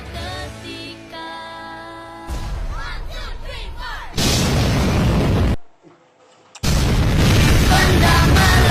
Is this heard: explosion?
yes